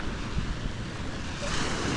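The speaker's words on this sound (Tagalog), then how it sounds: "Kalapit ang dagat" Sea waves wash near the shore in a continuous broadband roar, with wind buffeting the microphone throughout, no voices present.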